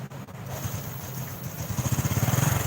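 Fuel-injected Honda Blade motorcycle engine revving up close, a low rough idle building into a fast pulsing throttle blip toward the end.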